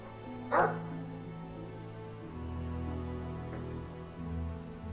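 A dog barks once in the Dragon Age 2 video game, a sharp close yelp standing out over a steady low game soundtrack drone, followed by a fainter second yip.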